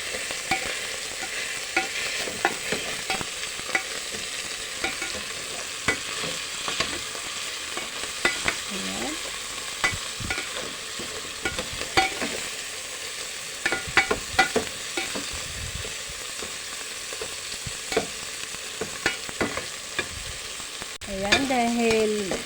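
Crushed tomatoes sizzle and fry in a pan while being stirred, a steady close hiss broken by scraping and clinking of the utensil, growing louder toward the end, with no talking.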